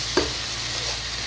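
Oil goes into a pot of mutton korma, a brief clink at the start followed by a steady, close sizzling hiss, with no voices.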